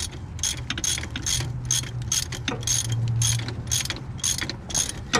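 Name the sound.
ratchet loosening Jeep Renegade engine mount bolts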